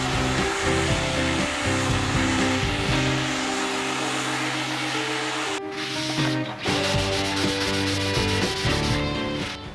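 A torch flame roars steadily against a wooden tabletop to bring out the grain, a loud close hissing rush that runs throughout, with a few brief shifts in tone partway through.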